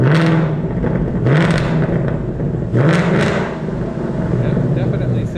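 A 2024 Mustang GT with a Steeda H-pipe exhaust revs loudly and close by in three rising blips over a steady rumbling idle, with voices partly audible beneath it.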